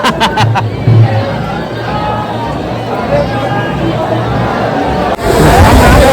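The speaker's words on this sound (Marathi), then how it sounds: "एवढा पाऊस असून सुद्धा गर्दी भरपूर आहे" Dense crowd hubbub at Ekvira temple during heavy rain, a steady babble of many voices with rain noise beneath, growing louder and closer near the end.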